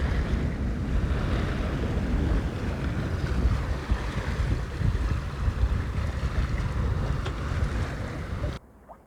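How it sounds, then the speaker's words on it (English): Wind gusting around a sailboat heading for St Pierre, Martinique, a loud rushing roar buffeting the microphone over water and hull noise, continuous until it cuts off abruptly near the end. "The wind is all over the place."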